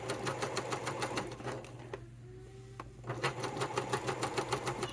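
Sewing machine stitching a leather wallet near thick card-slot layers, a steady rapid mechanical whir with a brief pause midway before stitching resumes, close and continuous.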